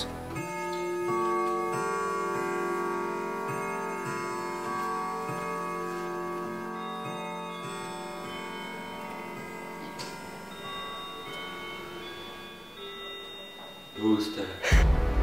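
A clock ticks in a steady, regular rhythm behind sustained musical tones, continuing evenly for most of the stretch before a few louder knocks and bursts at the end.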